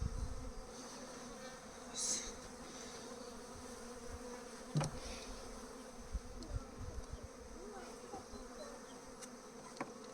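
A freshly caught honeybee swarm, checked on its second day, drones in a steady close hum, with individual bees buzzing past and faint knocks and handling noises throughout.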